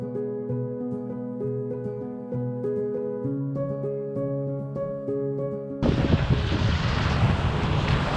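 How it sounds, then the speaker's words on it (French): Strong wind at the shore of the Arcachon basin buffets the microphone as a loud, broad roaring rush that abruptly takes over from several seconds of calm melodic music. "il y a beaucoup de vent"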